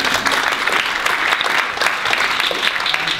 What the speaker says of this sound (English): So big applause for everybody here.